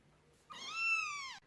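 A single young kitten's meow, close and clear, rising then falling over about a second, with near silence around it.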